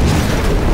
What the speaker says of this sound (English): The nuclear explosion got me.